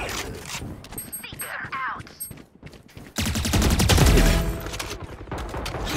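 Gunfire in Valorant, a rapid stream of automatic shots hammering loudly through the second half after sparser shots and game effects, with a voice talking over it.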